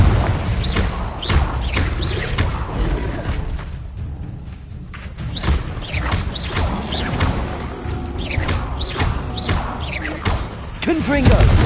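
Repeated fiery spell blasts in Hogwarts Legacy, a series of sharp bangs and thuds with whooshing bursts, loud and close, spread across the scene with a brief lull in the middle.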